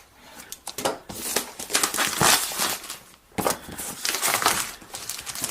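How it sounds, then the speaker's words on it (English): Plastic wrap being cut and pulled off the back of a MacBook Pro box: close, crisp bursts of crinkling and tearing that come and go, with one brief lull midway. "first thing we need to do is cut the plastic along the back"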